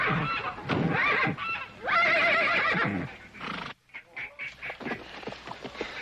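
A spooked horse lets out a loud, close, drawn-out whinny, followed by snorts and shuffling hoofbeats in a Western outdoor scene.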